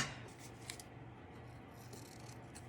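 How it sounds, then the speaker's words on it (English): Scissors snip through paper while trimming journal page edges, a steady close rustling cut with a couple of sharper clicks, heard alone without talk. "let's cut it first"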